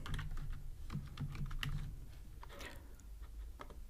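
Code is typed on a computer keyboard in quick, uneven bursts of soft, close key clicks, faint and without speech.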